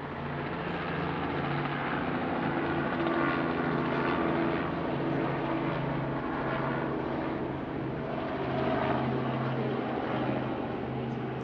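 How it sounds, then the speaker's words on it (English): A private helicopter cruising overhead near the old Mare Island naval shipyard in Vallejo, a steady broad engine and rotor drone with low hum bands that swells gently and holds loud for the whole stretch, with no talking. "Helicopter cruising."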